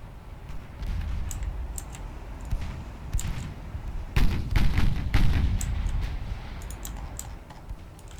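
Heavy cruiser guns firing in Ultimate Admiral Dreadnoughts naval battle, with booming broadside blasts mid-clip and scattered sharp clicks before and after.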